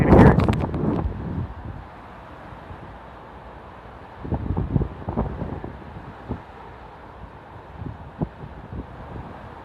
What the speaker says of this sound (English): Okay, here comes a gust. You can hear it.